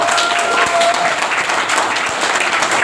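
Steady audience applause fills a school anniversary ceremony in Buleleng, with dense, loud clapping throughout and a faint voice underneath.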